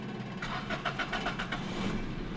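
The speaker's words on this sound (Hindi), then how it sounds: "गाड़ी स्टार्ट हो चुकी है" A 2019 Suzuki Alto starts nearby: about a second of rapid starter cranking pulses, then the small engine settles into a steady, fairly quiet idle.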